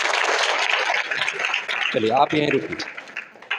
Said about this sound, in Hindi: ताली हो जाए इनके लिए एक बार।